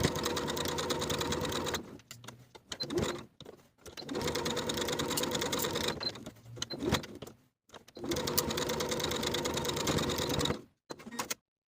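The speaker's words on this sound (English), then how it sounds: "I'm going to edge stitch along the sides and bottom of the pocket, back stitching at both top edges to secure" A sewing machine edge stitches along the sides and bottom of a shirt pocket, running in three long steady bursts with short stops and brief back-stitch spurts between them, close and clear with no talk.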